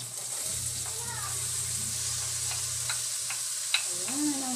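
Onions sizzle steadily in a hot pan for dinner corn soup, a constant frying hiss with a few light clinks and scrapes, while a voice talks over the cooking.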